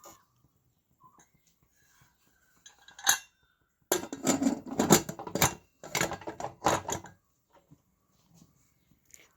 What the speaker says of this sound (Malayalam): കുക്കർ അടയ്ക്കുക.